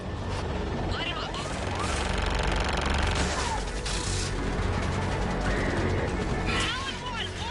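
Gunship weapons in Mass Effect 3 raking ground targets: a dense, continuous roar of rapid fire and impacts that runs through the whole stretch, with voices and radio-like chatter woven in.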